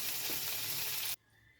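Fish fillets sizzle loudly in a frying pan for about a second, then the sound cuts off abruptly to near quiet.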